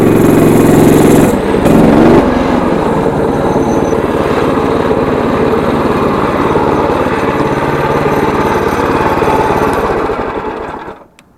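A stock Predator 212 small engine runs loaded near 5,000 rpm, giving a loud, steady high-pitched drone that holds for about ten seconds, then drops away to silence as the clip ends.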